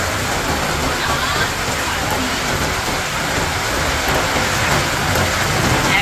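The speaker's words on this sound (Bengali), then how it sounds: "বিশাল জোরে বৃষ্টি এসেছে, ঝমঝম করে একদম হচ্ছে।" Heavy rain pours down steadily at an amusement park, a dense continuous roar of water hitting surfaces with no break.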